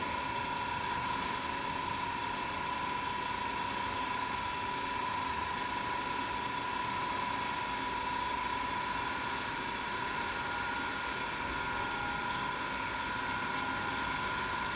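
A DC machine running steadily at about 1500 rpm during Swinburne's test in an electrical machines lab, producing a constant loud hum with a strong steady tone and broadband whirring noise throughout, no voices.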